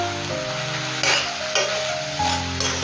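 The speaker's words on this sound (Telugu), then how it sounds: "మధ్య మధ్యలో తీసి కలుపుతూ ఉండాలి" Spinach cooks down in a pan and is stirred now and then, making a steady sizzle with a few soft scraping sweeps of the spoon and no talk.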